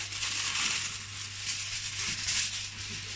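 Continuous crinkly, crackling rustle of aluminium foil being cut, a steady close scratchy hiss over a low hum.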